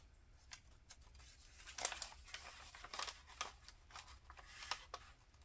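Pieces of paper are handled for a winter journal craft, giving soft, quiet crinkles and rustles in irregular bursts close by.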